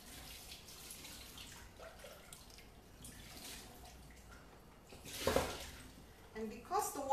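Warm water runs over a Thermomix lid to rinse off condensed milk, butter and chocolate, a rushing splash that swells near the end over steady background noise, with a voice heard in places.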